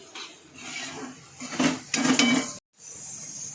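A spoon stirs onion through a pan while cooking a bitter gourd curry, giving scraping and clattering sounds up close that get louder partway through, then stop abruptly, followed by quieter background noise.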